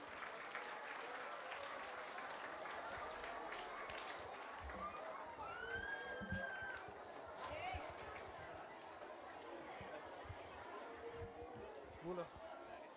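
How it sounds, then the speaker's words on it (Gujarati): A school crowd at a fun and food fair claps steadily to welcome a team onto the stage, with chatter and voices mixed into the applause, fairly distant and low in level. "અને જોરદાર તાળીઓથી આપણે સ્વાગત કરીશું"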